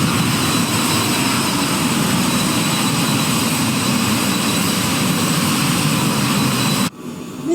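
A loud, steady aircraft engine drone fills a cockpit, continuous and near, before the engine is shut down and the roar drops off abruptly near the end.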